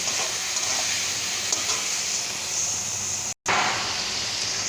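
Chili frying in a pan gives a steady, close sizzling hiss that is broken by one brief dropout, and the sizzle then carries on just as strongly.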